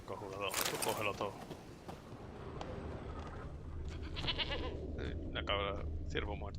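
Goat bleats in a video game, several short wavering cries in bursts, mixed with game ambience and background talk.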